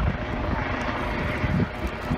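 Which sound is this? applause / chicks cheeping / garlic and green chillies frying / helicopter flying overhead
helicopter flying overhead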